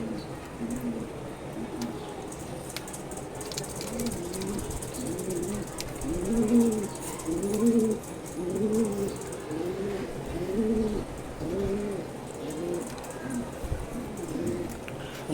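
Pet pigeons, a breeding pair kept on a home balcony, coo in a steady run of soft, low, rounded calls, repeating through most of the stretch at moderate closeness with faint background noise.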